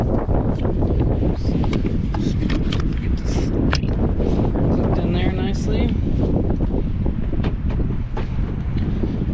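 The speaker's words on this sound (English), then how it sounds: "sorry, it's a little windy." Heavy wind buffets the microphone with continuous rumbling gusts while someone speaks briefly over it.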